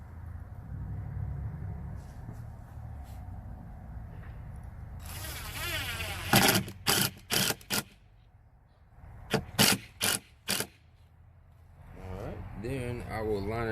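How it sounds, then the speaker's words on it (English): A power drill drives a screw into scrap plywood while a chicken nesting box is built, giving several short whirring bursts in two quick clusters, close and loud, after a stretch of quiet talking. "I'll shoot a screw in it."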